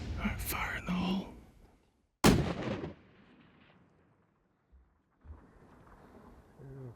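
A single loud, sharp rifle shot fired at a bighorn sheep on a hunt, booming close and trailing off in a rumbling echo, with hushed voices talking before it and faintly after.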